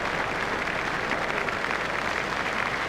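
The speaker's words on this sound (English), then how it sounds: "The crowd is rising to Dravid." Cricket crowd in Australia applauding Rahul Dravid as he walks off after his dismissal during a 301-run chase, India versus Australia: a broad, sustained roar of clapping from a packed stadium, continuous and full throughout.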